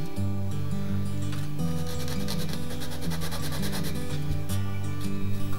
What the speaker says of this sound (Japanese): この上がちょっとデコボコしてますんで、ヤスリで削ってあげてから接着していきます。